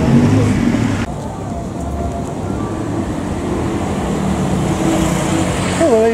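Dense traffic rumbles along Sukhumvit Road in Bangkok, a continuous loud wash of passing cars and road noise with occasional engine tones close by.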